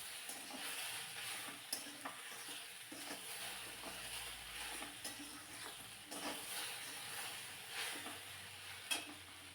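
Okra frying in a pan with chili powder and turmeric is stirred continuously, a steady close sizzle broken by scraping strokes and a few sharp clinks of the spoon against the pan.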